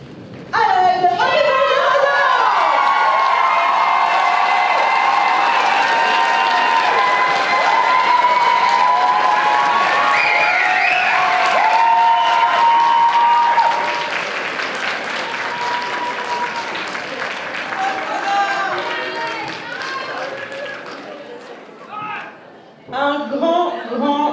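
An audience at a cosplay award ceremony at Japan Impact 2018 breaks into loud, sustained applause and cheering, fading slightly before a host's voice returns at the end.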